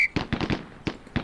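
Rapid gunfire in the PC game Police Quest SWAT sounds as a quick burst of seven sharp semi-automatic shots, loud and close, spaced unevenly across about a second.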